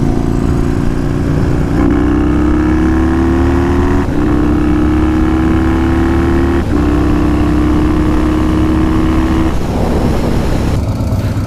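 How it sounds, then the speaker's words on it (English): A Yamaha Road Star Warrior 1700 motorcycle idles loud and close, its big V-twin holding a steady low rumble with slight periodic shifts in pitch, then settling toward the end, with no talking. "now we're gonna let it idle for 30 seconds, and then we will check the oil level on that bike"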